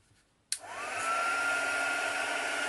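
A hair dryer clicks on after a moment of near silence and settles into a steady, close whooshing roar with a faint high whine, drying something off.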